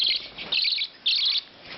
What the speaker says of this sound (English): And these are budgies, babies.